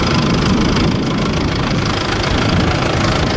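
A Fordson Super Major tractor engine running at a vintage rally and tractor event, a loud close diesel rumble with a steady knocking beat that continues throughout.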